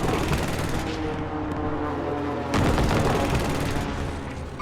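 Distant video game gunfire crackles in rapid bursts and sustained volleys, with a heavier barrage swelling about halfway through.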